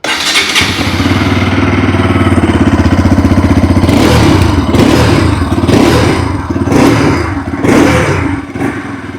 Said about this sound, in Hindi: आइए अभी सुन लेते हैं RS200 की एग्जॉस्ट नोट